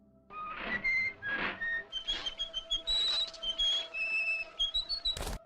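A whistled Steamboat Willie tune, the melody Mickey Mouse whistles at a ship's wheel, plays as an opening sound in the horror game Cronos: The New Dawn, with clear tonal phrases in steady rhythm and a short burst at the end.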